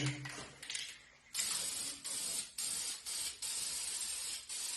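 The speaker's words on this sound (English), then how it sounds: "let's get spraying a little bit of white on here." A spray can lays white paint onto a '71 C10's silver aluminum headers in a run of close, loud hissing bursts with brief gaps between them.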